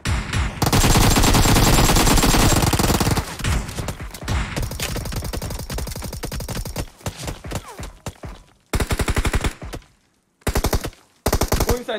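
Gunfire in PUBG Mobile roars loud and close in long rapid bursts, then breaks into shorter volleys separated by brief silences.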